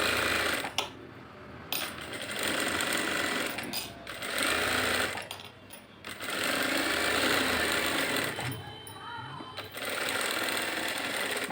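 A sewing machine stitches the lining of a blouse in several loud, rapid runs of whirring stitching, each broken by a brief pause, with no talk.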